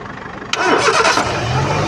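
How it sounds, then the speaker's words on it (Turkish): A car being jump-started with booster cables cranks briefly and catches, then settles into a steady loud idle close by. "Şimdi aracımızın marşına basacağız. Bakalım kablomuz iş görüyor mu?"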